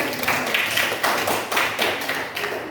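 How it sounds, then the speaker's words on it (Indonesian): Schoolchildren in a classroom clap their hands together in a short rhythmic burst, several sharp claps at a roughly regular pace, close and fairly loud with no talking. "Tepuk tangan untuk kita semua."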